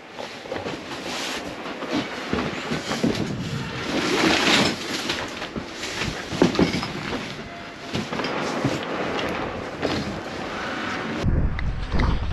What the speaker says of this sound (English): A little windy down here already.